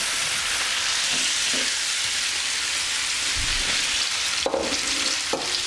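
Potatoes sizzling in plenty of hot seasoned oil over high heat for German Bratkartoffeln, a steady close crackling hiss throughout with a few soft clunks of stirring near the end.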